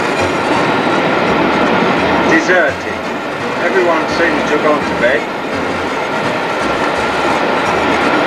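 Passenger train at night, carriage interior with steady rumbling roll and periodic clickety-clack of wheels over rail joints, occasional faint wheel squeal, while someone speaks over the continuous noise.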